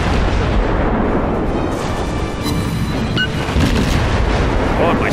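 Dense, loud rumbling and booming from naval gun turret fire and shell hits in a warship video game, continuous heavy blasts layered over each other with no pause.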